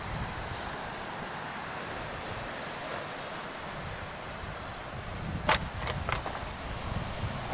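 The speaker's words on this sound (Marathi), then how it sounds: "खूप जोरात जोरात लाटा येत आहेत." Strong ocean waves roll and crash onto the shore along the Konkan coast near Ganpatipule and Ratnagiri, making a continuous roaring surf with wind noise and a few brief clicks near the end.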